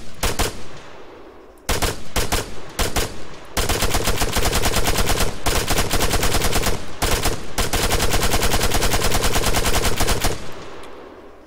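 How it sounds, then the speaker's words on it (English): An automatic rifle in Arma 3 fires full auto, loud and close, with a few short bursts followed by long sustained streams of rapid shots that cut off abruptly. "Going full auto at those distances, yeah, you're not gonna score many kills"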